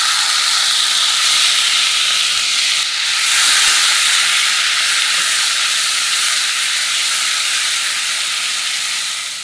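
Sambal sautés in hot oil, giving a loud, steady, close hiss that swells slightly partway through and runs unbroken to the end, with no voices.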